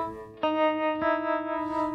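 A guitar played through an effects pedal with pitch shifting, two sustained distorted notes struck about half a second apart, ringing with rich harmonics and a slight wavering bend at moderate volume.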